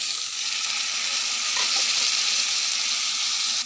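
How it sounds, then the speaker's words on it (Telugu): Potato, carrot, beans, green peas and curry leaves fry with onions in a pan, giving a steady, close, loud sizzle with a faint stir partway through, no voices. "ఆలు, క్యారెట్, బీన్స్, పచ్చి బఠానీ, కరివేపాకు. ఇప్పుడు అవి కూడా వేసి ఫ్రై చేసుకోవాలి"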